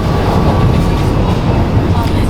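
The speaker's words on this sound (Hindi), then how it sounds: "ट्रेन वाकई में 130 km/h की स्पीड से चलती है" A Vande Bharat express train runs along the track at speed, a loud, continuous rumble and rattle heard up close from inside the carriage.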